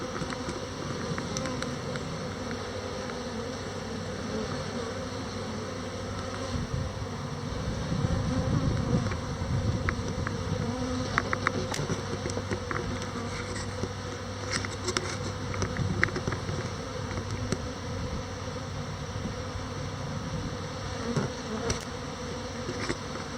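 Honeybees hum steadily around open beehives at a winery apiary, a dense, even drone of many insects close by with faint individual buzzes passing through, no talk.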